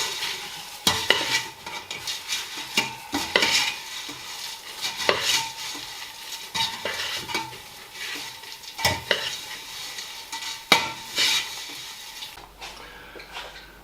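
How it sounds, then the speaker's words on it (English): Rice Krispies are stirred into a Twix mixture, with continuous crunchy scraping and repeated sharp knocks of the utensil against the bowl, close and busy for the whole stretch. "I'm going to mix the last Krispies in"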